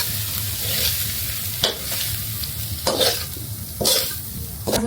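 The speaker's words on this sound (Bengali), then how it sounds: "ভাজা ভাজা করছি, ভাজা ভাজা করলেই ভালো লাগে এই শাকটা" Leafy greens (saag) fry in a pan, a steady loud sizzle broken by several sharp scraping stirs of the spatula. No voices.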